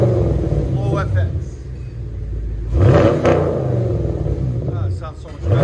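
A Chevy Camaro SS V8 with a Flowmaster Flow FX muffler idles with a deep, close rumble and surges in a sharp rev around the three-second mark, with someone talking over it.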